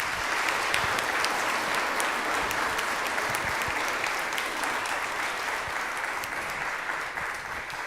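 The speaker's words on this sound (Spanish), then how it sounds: "De un aplauso, por favor, al Padre Gary." Steady, dense applause from a church congregation at a Spanish-language weekend Mass, sustained and fairly loud throughout, filling the room with no speech over it.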